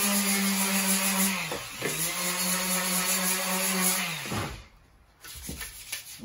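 A power sander works over an old double bit axe, grinding loud and close in a steady whirring drone that dips briefly twice, then cuts out near the end before starting up again.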